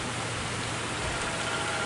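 Rain falls as a steady, dense broadband hiss that stays even throughout, close and continuous with no voices over it.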